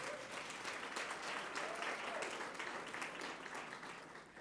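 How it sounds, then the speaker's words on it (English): An awards ceremony audience applauds continuously, dense overlapping clapping from a sizeable crowd holding at a steady level before easing slightly at the end. "Please let's give them a round of applause."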